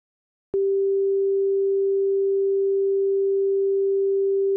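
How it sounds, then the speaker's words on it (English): A synthesizer oscillator set to a pure sine wave starts abruptly after a brief pause and holds one steady, unwavering mid-low pitch, loud and alone. "There's a sine wave."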